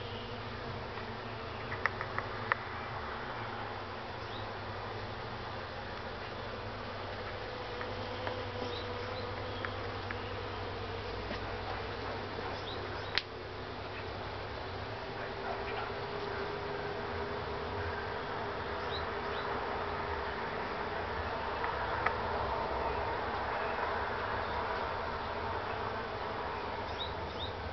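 Bees in an apiary buzz around a pollen-laden flower called Mâna Maicii Domnului, a faint, steady hum of many insects holding for nearly half a minute with a few small clicks and no voices.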